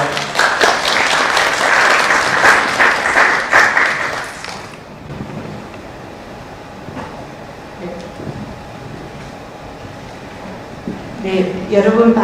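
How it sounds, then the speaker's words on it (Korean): Loud audience applause for a presenter being called up at a rare-disease awareness seminar, dense clapping for about four seconds, then a quieter room with a few scattered sounds before a voice begins. "큰 박수 부탁드리겠습니다"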